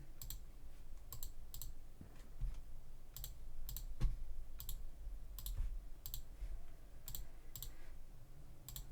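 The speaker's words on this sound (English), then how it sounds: "Looks like we got people typing away." Computer keyboard typing from people in an online playtest session: faint scattered clicks and short bursts of keystrokes spread across several seconds, quiet against a low background hum, with no speech.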